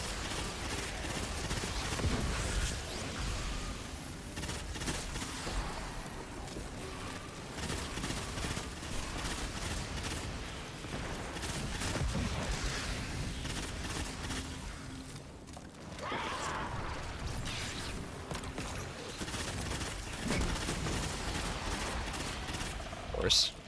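Rapid gunfire in a Destiny or Overwatch shooter rattles in repeated bursts at low level through a long stretch, with voices talking over it.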